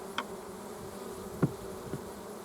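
Honey bees buzz steadily around packed, full deep beehives, a continuous low drone with a few brief louder passes as individual bees fly close, no voices.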